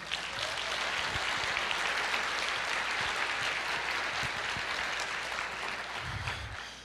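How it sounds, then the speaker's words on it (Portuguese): A church congregation applauds, a dense continuous wash of clapping that stays loud and even throughout with faint voices underneath. "Pode aplaudir."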